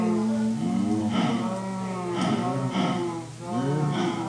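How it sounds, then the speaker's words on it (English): Cattle mooing loudly and close, several long drawn-out lowing calls that overlap and rise and fall in pitch, with no talking. "Now, let's do the cowies. They go moo."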